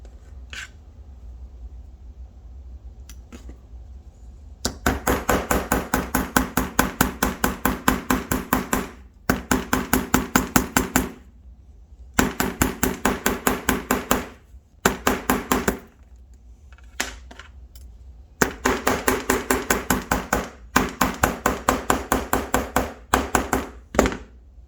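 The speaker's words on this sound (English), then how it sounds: "I'm going to hammer it down a little bit, see if it gets any more rigidity." Repeated hammer taps on a soft piece of melted 24k gold, struck in rapid rhythmic bursts of several seconds each with short pauses between, close and sharp.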